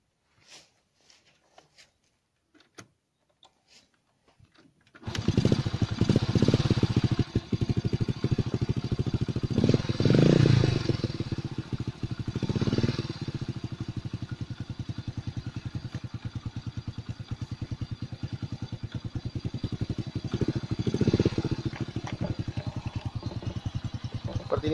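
A restored Honda Astrea Prima motorcycle engine starts after a few seconds of faint clicks, then runs steadily with a rough, rumbling idle and occasional small revs.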